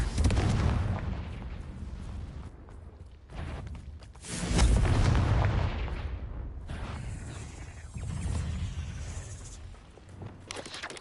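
Explosive blasts from the Confringo fire spell in the Hogwarts Legacy video game, several booming bursts with rumbling tails in quick succession over continuous game sound.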